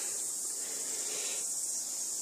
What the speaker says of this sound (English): In the background you can hear a chorus of cicadas laughing at me